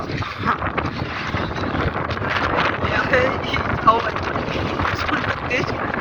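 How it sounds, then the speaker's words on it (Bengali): Strong wind sweeps across a sandy sea beach at low tide, roaring and buffeting steadily against the microphone, with a person speaking underneath the gusts. "হাওয়া হচ্ছে, তবে সাউন্ডও শুনতে পাচ্ছি, হাওয়ার সাউন্ডটা কতটা জোর"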